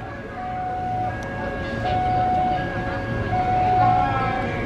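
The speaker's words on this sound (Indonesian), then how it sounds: "Kereta api Pangrango masuk jalur 2 stasiun Bogor Utama." Pangrango passenger train pulling into platform 2 at Bogor station, a steady rumbling roar with sustained wheel squeal and screeching tones, loud and continuous throughout, with a brief clank near the start.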